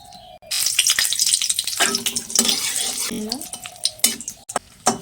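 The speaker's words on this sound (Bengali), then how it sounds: "তেলটা গরম হয়েছে দিয়ে দেবো শুকনো লঙ্কা তেজপাতা" Dried red chillies and bay leaves crackle as they hit hot oil for a bottle-gourd curry, with an uneven, close sizzle and bursts of spoon and pan clatter.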